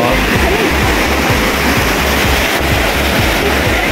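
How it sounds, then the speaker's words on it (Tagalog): Rough, storm-driven sea waves churn loudly against a stony-free sandy beach, a continuous dense roar of surf with wind buffeting the microphone throughout. "Tignan mo, nangangalip yung alon."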